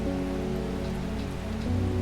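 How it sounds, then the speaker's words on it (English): Steady rain from the video game Strange Horticulture patters on a surface with a constant hiss, accompanied by a low droning hum underneath. "It's raining."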